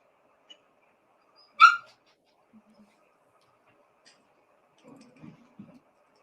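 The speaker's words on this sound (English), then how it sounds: "They have dogs in jail? Sound like it." A dog barks once, sharp and fairly distant, inside a county jail, followed by faint scattered muffled noises and low voices.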